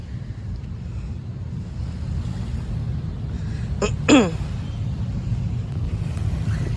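Sea waves washing at a beach shore, a steady low rush with wind buffeting the microphone, plus a brief sharp chirp partway through.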